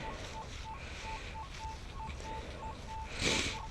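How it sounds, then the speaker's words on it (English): A Minelab CTX 3030 metal detector sounds a repeating high beeping tone as it rings on a buried target in a park, steady short pulses over outdoor background noise with a louder rustle near the end. "I got something ringing in right now here."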